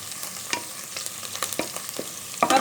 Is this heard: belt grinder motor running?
no